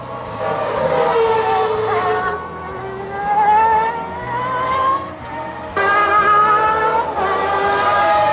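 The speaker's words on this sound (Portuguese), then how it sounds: "a transmissão coloca a onboard do Senna e ele ainda está mudando as marchas" Ayrton Senna's Formula 1 car, heard onboard at the 1991 Brazilian Grand Prix: a loud, high engine wail climbs in pitch, then drops sharply at each upshift, with two clear gear changes, all close and steady.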